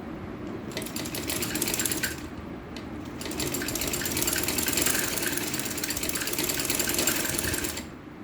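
A sewing machine stitches small fabric pieces for a dress in two bursts, a short run and then a longer steady one, with a close, rapid mechanical whirring and clatter and no talking.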